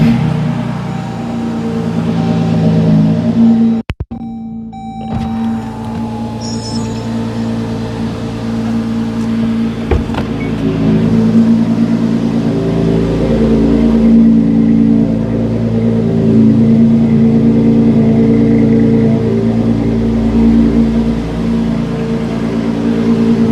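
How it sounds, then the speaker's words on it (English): A Dodge Durango's engine cranks and starts after a brief dropout, then idles and runs with a steady low hum close by, no one talking. "Turn the truck on."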